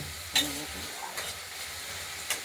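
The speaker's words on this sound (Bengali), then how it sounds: "এবার নেড়ে চেড়ে মাখা মাখা হবে, তারপর সেদ্ধ করা যাবে" Bottle gourd curry with small shrimp is stirred in a pan, giving a low steady sizzle broken by a few short scraping clanks of the spoon, without speech.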